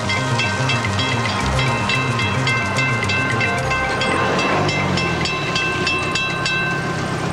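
A train passing a railroad crossing, loud and close, with a sustained rumble, ringing tonal hiss and rhythmic clatter of wheels running continuously from start to finish.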